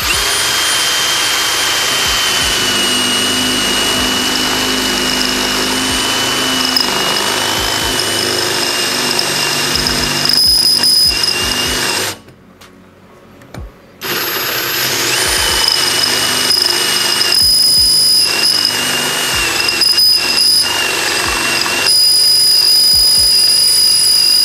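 Vitals Professional AU 1860Pbt cordless drill-driver whirring steadily at second speed, a loud high motor whine that cuts out briefly for about two seconds and then resumes, with small shifts in pitch under load.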